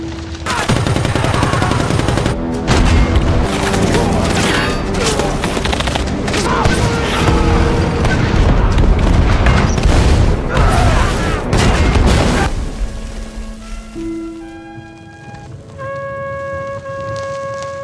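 Intense battle gunfire between Chinese and American troops, a dense, loud barrage of rapid shots and booms with machine-gun bursts that rages for about twelve seconds before thinning out under sustained tones.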